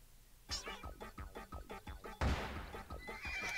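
A horse in the video game Miitopia lets out a loud, quavering whinny in rapid stuttering pulses, then another shrill neigh follows.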